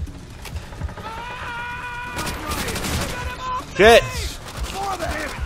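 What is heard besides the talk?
gunfire in the video game Call of Duty World at War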